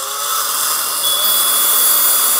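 A cordless drill whines steadily while boring a small hole in the middle of a spray paint can nozzle, a close, continuous high-pitched tone with no pauses.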